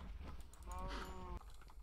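A cow in the video game Minecraft gives one drawn-out moo of about half a second, moderately loud over a low background hum.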